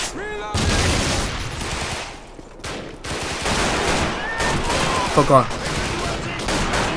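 Rapid bursts of gunfire and explosions from Call of Duty 2 on veteran difficulty, a dense fusillade with a brief lull, loud and sustained, while a man swears over it.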